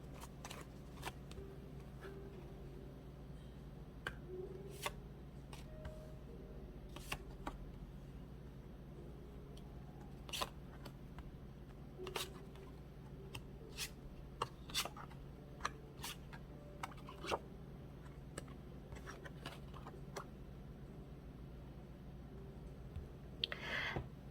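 Tarot cards are handled and laid open with soft, scattered clicks, light slaps and shuffling rustles, close and fairly quiet over a steady low room hum.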